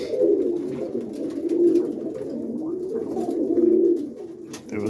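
Pigeons cooing steadily in low, rolling phrases at a loft of Boston ripping roller pigeons on a rainy morning, fairly close and alone without talk.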